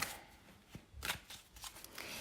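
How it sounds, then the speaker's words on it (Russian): Four fortune-telling cards are laid out one by one, giving faint, soft papery slaps and slides spaced irregularly across a quiet background. "пока я выкладываю карты"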